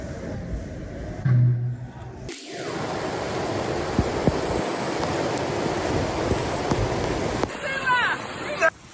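Heavy storm rain pours down steadily as a dense, continuous broadband wash, loud and close, with gusting wind and brief shifts in texture at the start and near the end.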